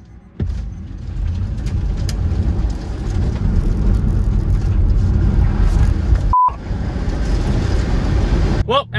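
A Tesla Model 3 Performance running a race track lap gives a continuous close road and wind roar, briefly cut by a short electronic beep near the end.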